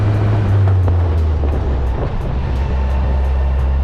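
A 1979 Land Rover Series 3 long-wheelbase engine idles steadily close by, a loud, continuous low rumble with a smooth, even drone and no talking.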